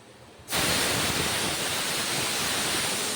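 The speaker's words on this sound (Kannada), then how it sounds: "ಮಳೆ ಭಾಳ ಜೋರು ಐತ್ರಿ" Heavy rain bursts in suddenly after a brief quieter moment, then pours as a dense, loud, steady hiss that continues to the end.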